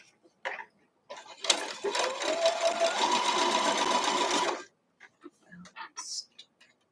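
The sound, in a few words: sewing machine stitching a quilt block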